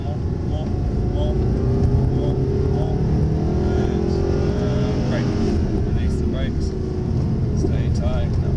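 A Mercedes SLS AMG on a track at Benzworld makes a loud, steady engine roar under acceleration that builds slightly and holds, with voices talking over it.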